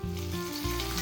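Fish frying in hot oil at home, with a steady, close sizzle that fills the whole brief moment and carries no talk.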